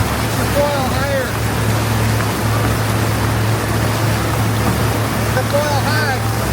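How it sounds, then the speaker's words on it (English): A motorboat dinghy drones steadily as it tows a foil rider across ocean waves, engine and water wash filling the scene continuously while people speak over it. "Remy was able to get up on the foil behind the dinghy"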